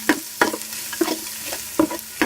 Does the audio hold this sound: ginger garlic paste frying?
yes